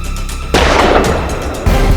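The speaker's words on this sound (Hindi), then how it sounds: "मेरे टारगेट पे आते ही मैंने गोली चलाई" A loud gunshot in a dramatized courtroom crime scene sounds as a sudden close blast, followed by a long, noisy echoing tail and then a second heavy burst near the end.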